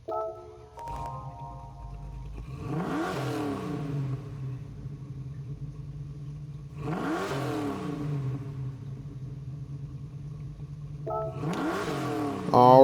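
A 1971 Ford Mustang Mach 1 V8 in Gran Turismo 7 cranks, catches and settles into a steady rumbling idle, with three sharp revving blips rising and falling at even intervals, loud and close throughout.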